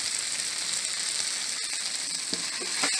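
Chilli chicken with onion sizzles steadily in a pan, a close, continuous crackle with a few brief stirring scrapes near the end.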